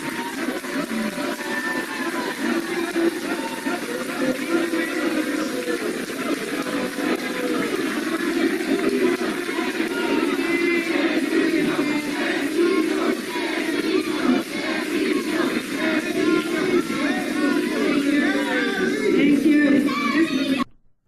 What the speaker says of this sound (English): Both candidates struggled to be heard over an unruly crowd